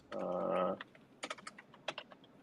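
Keys clatter on a computer keyboard as an email address is entered, a quick run of separate clicks in an uneven rhythm, close and fairly quiet. They follow a short hum at the start, and no voices are heard.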